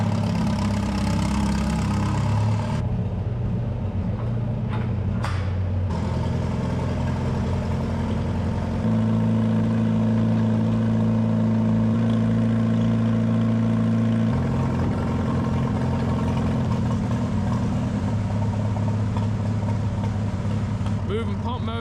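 Farmall Super H tractors idle and rumble nearby with a deep, steady engine drone while moving irrigation pump motors into a farm shop, the pitch and load shifting partway through.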